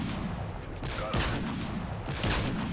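Rapid bursts of gunfire in the video game Modern Warfare 3, a dense fusillade of shots with sharper loud cracks around the middle and near the end, continuous battle noise throughout.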